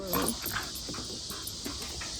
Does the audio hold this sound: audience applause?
no